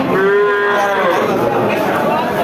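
A calf at a cattle market gives a drawn-out moo, loud and close, with a busy crowd murmuring behind it.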